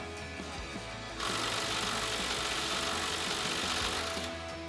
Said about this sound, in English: So we're going to grab our 17 millimeter swivel socket and extension on our impact.